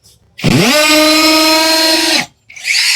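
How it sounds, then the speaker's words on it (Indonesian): A cordless Keelat KCD011 hammer drill on speed 2, in hammer mode for masonry, spins up sharply into one loud, steady high whine for nearly two seconds, then stops, with a brief second burst starting after it. "Ini di speednya speed 2, modenya mode hammer ya, mode pengeboran tembok."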